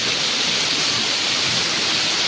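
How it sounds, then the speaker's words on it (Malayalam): Steady heavy rain pours down continuously, a dense broadband hiss with water running off a tin roof and an overflowing tank nearby, loud and uniform throughout with no talk. "നോക്കിക്കേ ഒരു നല്ല മഴയൊക്കെ ഉണ്ട്."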